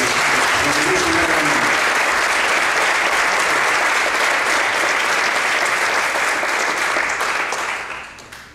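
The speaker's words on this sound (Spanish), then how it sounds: "También un aplauso para el Bocha" Loud, sustained applause from an audience at a book presentation in Uruguay, a dense wash of clapping that holds steady for most of the stretch and then thins out near the end.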